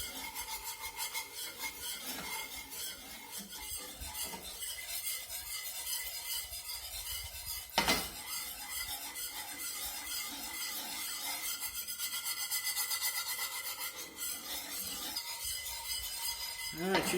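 A spoon scrapes and stirs roux in a pot for shrimp étouffée, making a steady rasping, rubbing sound that keeps up for the whole stretch, close and moderately loud. One sharp knock near the middle breaks it.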